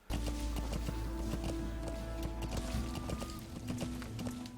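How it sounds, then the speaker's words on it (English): Hooves of a horse clip-clop in a fast, steady gallop in Metal Gear Solid V, loud and rhythmic over a low game soundscape, with no talking. "Alright, how do I get off the horse?"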